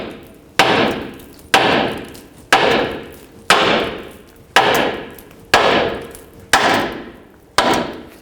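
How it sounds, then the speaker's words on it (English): A hammer drives a lower ball joint stud upward on a 2001-07 Toyota Sequoia front suspension: eight loud, evenly spaced metallic strikes about a second apart, each ringing briefly before the next blow. "I'm going to first try by hammering the stud upwards"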